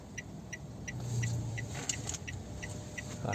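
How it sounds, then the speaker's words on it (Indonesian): A Ford Ranger idles and rumbles steadily while it backs up to park, its engine low and close, with a rhythmic high beeping, probably a reversing alarm, repeating through it. "Sekarang sekalian kita mundur parkir di tempat yang tadi."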